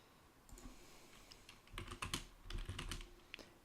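Keystrokes on a computer keyboard typing a page title into WordPress, quiet scattered clicks at first, then denser bursts of rapid typing, close and alone with no talk.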